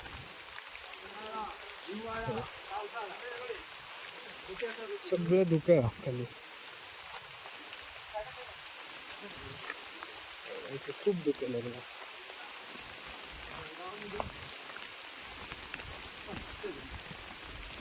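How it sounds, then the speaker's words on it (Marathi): Light drizzle pattering softly and steadily on a misty Sahyadri mountain trail during a descent from Bhairavgad fort, faint and continuous beneath intermittent speech from hikers. "बघा इकडे पाऊस चालू आहे"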